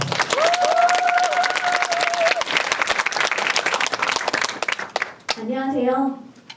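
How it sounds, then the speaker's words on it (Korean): Audience applause at a citizens' creative school final presentation, sustained dense clapping from a room full of people for several seconds, fading out before a voice begins speaking near the end. "큰 박수 부탁드리겠습니다"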